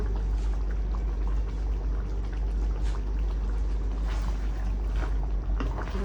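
Water pours steadily into a pot of beef kaldereta, a continuous splashing, bubbling rush that holds at an even level throughout without any talk.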